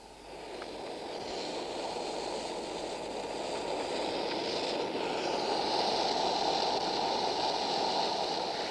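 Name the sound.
model train carriage on sprung bogies running on track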